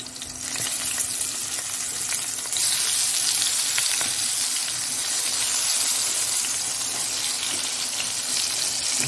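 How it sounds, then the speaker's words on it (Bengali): Eggplant pieces fry in a frying pan, giving a steady, loud, continuous sizzle that swells slightly after a few seconds and carries on unbroken with no voices. "আর এখানটায় ফ্রাই প্যান বসিয়ে দিয়েছি, ভাজাগুলো করব।"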